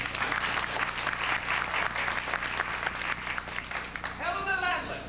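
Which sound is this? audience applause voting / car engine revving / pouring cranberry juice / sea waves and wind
audience applause voting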